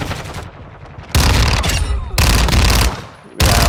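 Fennec submachine gun in Call of Duty: Modern Warfare II fires in three long, rapid full-auto bursts, loud and close, with short gaps between them.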